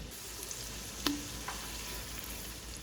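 Onions fry in a pan with a faint, steady sizzle, broken once by a sharp clink of a utensil against the pan and a softer tap after it.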